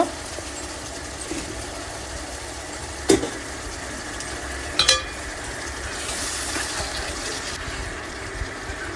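Gongura prawn curry sizzles steadily in a pan, a constant close frying hiss with a low hum beneath. Two brief scraping clinks from stirring stand out.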